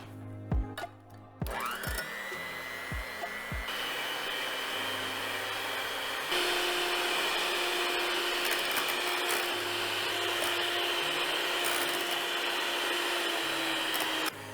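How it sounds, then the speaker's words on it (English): A hand mixer whips 1 cup of heavy cream in a bowl, spinning up to a steady high whine after a few clicks, then shifting speed once and running on close and loud. "hand mixer."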